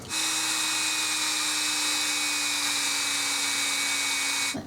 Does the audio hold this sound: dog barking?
no